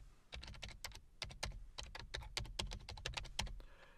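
Rapid keystrokes on a computer keyboard while entering a PowerShell command, a close, steady run of clicky taps in quick irregular bursts with no voice.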